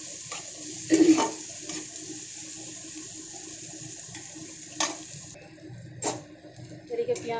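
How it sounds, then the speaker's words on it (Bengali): Onion frying in oil in a wok (kadai) for a simple bowal fish recipe, a soft steady sizzle with occasional stirring scrapes and a few louder clatters, fairly close and continuous. "দিয়ে দিচ্ছি পেঁয়াজটাকে একটু ভেজে নেব"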